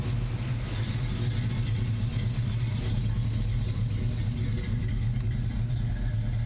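A 1969 Ford Mustang Mach 1 V8 with a soft cam idles steadily, its deep, even burble close and continuous without a break.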